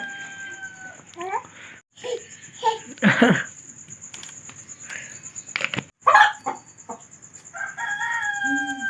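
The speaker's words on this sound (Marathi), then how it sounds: "हा कोंबडा कोंबडा होते ना" A rooster crows twice in a rural Marathi village setting, the calls rising clear above a steady background hum, mixed with clucking fowl and scattered household noises.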